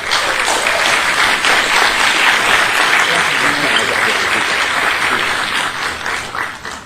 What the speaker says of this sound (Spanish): vamos a recibir a Fausto con un fuerte aplauso